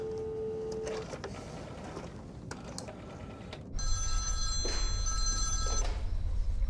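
A telephone ringing during a call, loud electronic ring tones near the start and again after a louder hum sets in partway through, along with scattered mechanical clicks.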